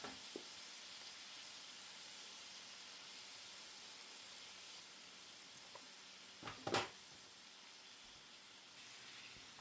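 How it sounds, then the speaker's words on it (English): Pork fries in a hot pan for a ginger pork stir-fry, giving a faint, steady sizzling hiss with a few brief louder crackles and spits near the end. "As you can see, the pork is cooking really quickly and browning really, really nicely"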